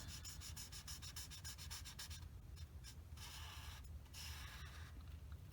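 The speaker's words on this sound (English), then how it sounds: "I'm going to use the chisel tip, I think," A chisel-tip marker rubs back and forth across coloring book paper in quick, steady scratchy strokes, close and continuous with brief pauses.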